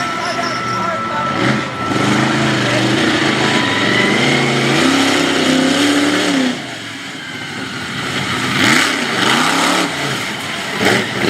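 A monster truck engine revs and surges at an outdoor show, loud and throaty with rising and falling pitch sweeps, while an announcer talks over it.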